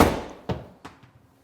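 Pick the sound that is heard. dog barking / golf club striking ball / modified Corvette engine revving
golf club striking ball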